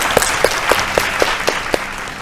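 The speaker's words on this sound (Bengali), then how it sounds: "জোরে হাততালি অলকানন্দাদির পরিবারের জন্য" Rhythmic group clapping from a studio audience on a Bengali family game show, steady evenly spaced claps close by over a brief span.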